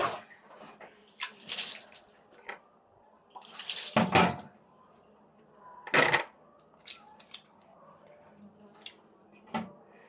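Water from a tap splashing and gushing in short bursts, with intermittent drips and trickles between louder pours, close by, with no voices.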